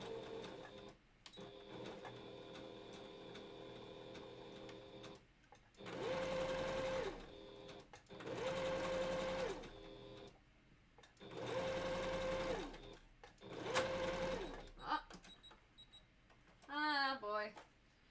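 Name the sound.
sewing machine stitching a balaclava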